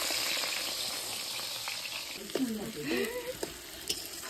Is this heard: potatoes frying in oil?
yes